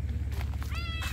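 A cat gives a single short meow, close and clear, over a low background hum.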